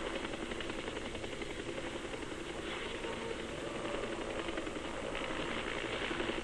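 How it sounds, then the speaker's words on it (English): RAAF helicopters airlift rice supplies in Vietnam, a steady, continuous rotor and engine drone heard alone at a moderate distance. "RAAF helicopters are flown in to airlift the valuable find."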